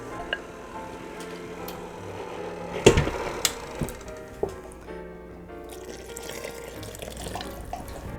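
Liquid yeast mixture poured slowly into bread dough in a home kitchen, a thin trickling and splashing stream with a few sharp clinks of a container, followed by quieter dripping.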